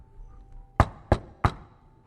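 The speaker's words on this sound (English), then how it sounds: "there was a knock at the door." Three sharp knocks on a door, evenly spaced and loud, standing alone against a quiet background as a sound effect in a bedtime story.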